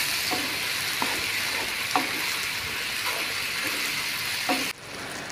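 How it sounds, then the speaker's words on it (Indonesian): Kikil (cow tendon) and spices frying with a steady, close sizzle, stirred in the pan with a few scraping clicks, until the hiss abruptly drops quieter near the end. "Terus masukkan bumbu pelengkapnya, lalu aduk rata."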